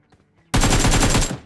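Rapid automatic gunfire from a battle royale video game, a loud, sudden burst of about a dozen quick shots lasting under a second after near silence.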